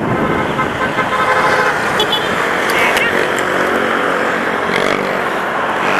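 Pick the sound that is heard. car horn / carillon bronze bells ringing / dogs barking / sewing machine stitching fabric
car horn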